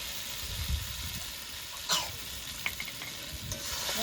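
Spice masala for a chicken and chickpea curry frying in a pan, with a low, continuous sizzle broken by several clinks and scrapes of stirring, close and quiet.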